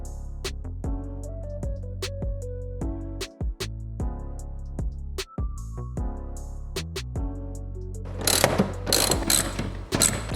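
Repeated clicking of a ratchet wrench tightening seat bolts in a Toyota Tacoma in short bursts, with metallic mechanical ticks and a brief rattling flurry near the end.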